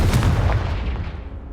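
A Confringo blasting spell cast in the Hogwarts Legacy video game, a loud booming burst at the start that rolls into a long, gradually fading rumble.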